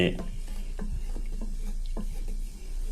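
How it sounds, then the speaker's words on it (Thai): Boxed coconut milk simmering down in a pan while being stirred, soft bubbling with repeated gentle scrapes and light clicks of the spoon, fairly quiet and close. "เราจะเคี่ยวไปเรื่อยนะครับ"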